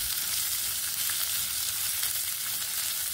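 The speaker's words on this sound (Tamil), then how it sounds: "அடுத்து வெங்காயத்தை சேர்த்துக்கிடலாம். வெங்காயம் கொஞ்சம் வதங்கட்டும்." Chopped onions sauté in a hot pan for a chutney, giving a constant, even sizzle and crackle of frying with no talk.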